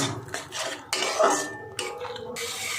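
Beetroot paste stir-fried in a pan for red pulao, a close series of metal spatula scrapes and clinks against the pan in uneven strokes, with no talk.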